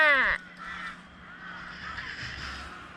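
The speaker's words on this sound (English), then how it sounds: "The birds! The birds! The birds!" Honking calls, likely geese, ring out loud and close at a Dorset campsite, a harmonic burst at the start that gives way to quieter, scattered calling under a steady outdoor background.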